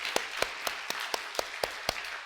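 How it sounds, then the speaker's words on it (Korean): A church congregation claps in unison, sharp and evenly spaced, about eight beats in a steady measured rhythm that rings over a quiet room. "하나님께 영광의 박수 올려드립시다."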